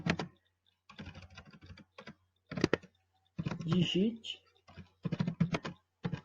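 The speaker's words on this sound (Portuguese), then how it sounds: "Vou digitar um printf, primeiro tipo de printf" Typing on a computer keyboard while entering a C printf statement, close, crisp bursts of key clicks in irregular runs with short pauses between them, mixed with some speech.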